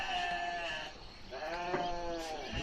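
Goats in a rural village without electricity bleat at morning feeding time, several overlapping calls close by and fairly loud, with no talking.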